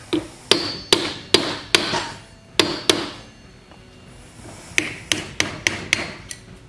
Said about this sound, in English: I got me a little small chisel, because you got to get under that lip